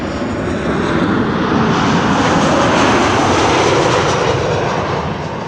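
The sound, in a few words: Boeing 747 jet airliner landing, engines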